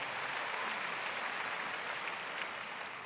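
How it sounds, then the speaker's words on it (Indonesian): Church congregation applause during a sermon, a broad, steady patter of many hands clapping, soft and somewhat distant, holding evenly for about three seconds. "berikan tepuk tangan buat Tuhan"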